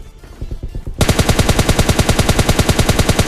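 Sustained rapid automatic gunfire in PUBG Mobile breaks out after a quieter second, loud and rhythmic bursts continuing steadily to the end.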